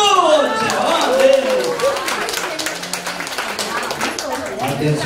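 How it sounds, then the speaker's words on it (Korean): At an alumni New Year gathering of a university singing-instructor course, a crowd claps in a dense, steady round of applause lasting several seconds, with a voice speaking over the start. "여러분 자신에서 다시 한번 박수 주세요"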